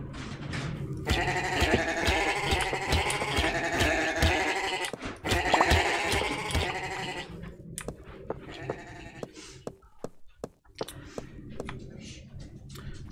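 Sheep bleat in the Minecraft-style video game MineClone5 (Minetest), in several repeated nasal cries over background game music, followed by scattered clicks and quieter sounds.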